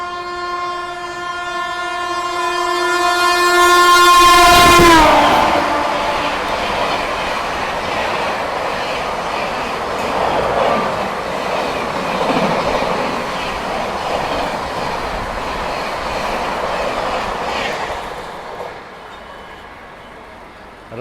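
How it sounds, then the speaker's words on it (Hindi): Magadh Express pulls out of a station: a loud, sustained train horn blares over the first few seconds, then fades into steady rumbling and clatter of the departing carriages. "डिपार्चर ले रही है मगध एक्सप्रेस"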